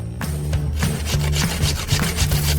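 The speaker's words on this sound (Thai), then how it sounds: "จากนั้นขูดสตรอเบอรี่แช่แข็ง" Frozen strawberries scraped against a grater into whipped cream for homemade ice cream, a steady rhythmic rasping with repeated strokes, close and fairly loud, with no talking.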